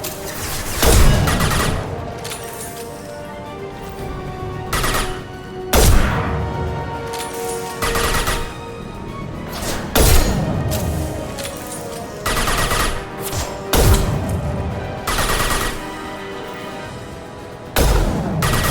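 Gunfire from the video game Mass Effect: repeated sharp bursts of rapid automatic fire and heavy shots, loud and close, with booming impacts set against a droning ambient background.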